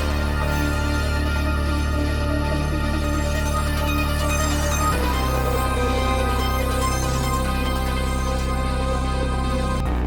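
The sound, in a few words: synth track with arp, pad, bass and layered melody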